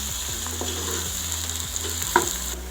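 Onion and finely crushed ginger fry in a pan with a steady, close hiss and crackle, a single sharp clink of a utensil near the end and no speech.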